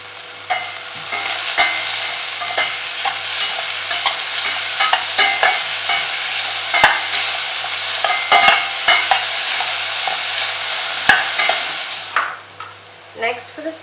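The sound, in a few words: onions and salt frying in a pan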